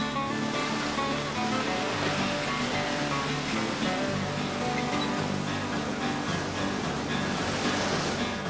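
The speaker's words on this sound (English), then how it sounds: "Waves at Makapu'u Bay and Sandy Beach challenge the best local and visiting surfers." Ocean waves surge steadily at Makapu'u Bay, Hawaii, a continuous loud wash of surf with no pauses.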